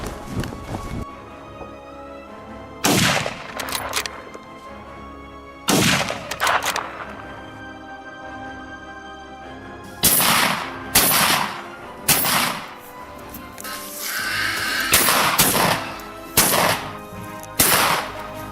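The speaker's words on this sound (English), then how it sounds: "After a crisp gunshot, 3 more wild boars were taken down." Rifle shots ring out while hunting wild boars on snowy hills, several loud, crisp cracks at irregular intervals, some close together, each followed by a ringing echo.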